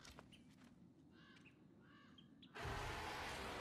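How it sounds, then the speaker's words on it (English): Crows or ravens cawing in God of War Ragnarök, several harsh repeated caws at a moderate distance over a low ambient rumble, cut off by a sudden loud broadband wash of noise. "Can you not hear the crows? Are they ravens? I think they're ravens or crows."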